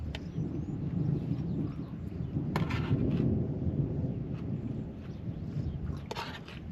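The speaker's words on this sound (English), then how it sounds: "Can you guys hear that thunder out there?" Thunder rumbles outside a van during a rainstorm, heard from inside as a steady low roar with a couple of sharper cracks, moderately loud and continuous.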